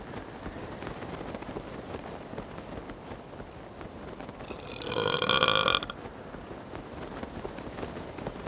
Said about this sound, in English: that was a satisfying burp I just had